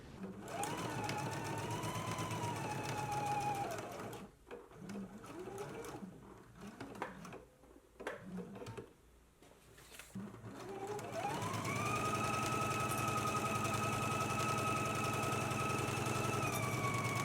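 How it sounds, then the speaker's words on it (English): A domestic sewing machine stitches a jacket's front facing to the jacket body in long steady runs, with a pause in the middle where the motor stops and cloth is handled, then a second continuous run. "So let's go ahead and start stitching the front facing to the jacket."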